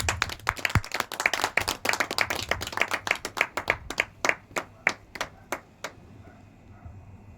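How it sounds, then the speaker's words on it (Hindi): Congregation claps to welcome the pastor at a Sunday church service, a brisk burst of hand claps from a small group that thins into a few sparse, distinct claps before stopping, with quiet room tone behind. "उनका स्वागत करते हैं ताली बजा के"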